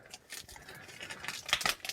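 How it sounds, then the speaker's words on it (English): Cutco scissors snip open a package of silver bullion: a run of quiet, crisp cutting and rustling clicks that grow a little louder toward the end, with no talking. "These are nice Cutco scissors."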